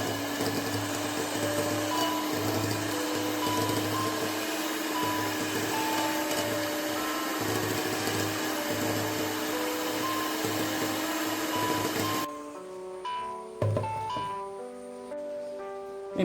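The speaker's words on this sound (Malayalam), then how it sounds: "നമ്മുടെ ബട്ടർ റൂം ടെമ്പറേച്ചറിലായിട്ടുണ്ട്. നമുക്കിതൊന്ന് ബീറ്റ് ചെയ്തെടുക്കാം." An electric hand mixer beats room-temperature butter for vanilla cupcakes, whirring steadily with a constant motor hum before switching off near the end, leaving a few light clinks and rattles.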